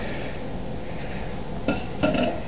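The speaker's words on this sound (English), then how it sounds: "And going to get our little pot stand. And we'll set it on there" A metal pot stand clinks as it is set in place under a camping pot over a lit alcohol stove, giving two short metallic knocks close to the mic over a steady low background hiss.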